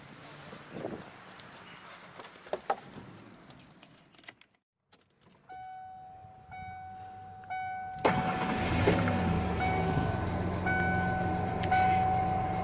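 Keys jangle, a 1994 Ford Ranger truck's starter cranks and the engine catches, then runs at a steady idle close by, with a chime sounding during the start.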